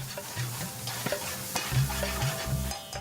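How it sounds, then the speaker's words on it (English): Onions and chilli sizzle and fry in a large frying pan with scraping stirring strokes, a low steady hum of cooking beneath, fairly close. "The chef fries some onions and some chilli in a large frying pan"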